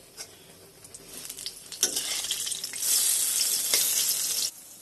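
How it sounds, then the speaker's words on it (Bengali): Eggplant fries in a pan with a bright, crackling sizzle that builds and grows loud for a couple of seconds, then cuts off abruptly. "এখানে বেগুন ভাজা হচ্ছে।"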